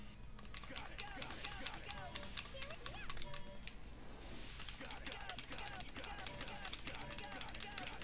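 Game controller buttons clatter in rapid, steady clicks during play of the Sonic Heroes video game, close and continuous for several seconds, with game sounds underneath and a brief pause midway.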